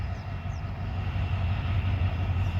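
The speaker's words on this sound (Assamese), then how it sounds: "এতিয়া চাব এইপিনে এটা ট্ৰেইন আহিব," A train rolls over a bridge at Deepor Beel near Guwahati, a continuous low rumble holding steady throughout, heard from a distance with no voices.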